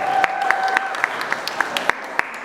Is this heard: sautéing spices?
no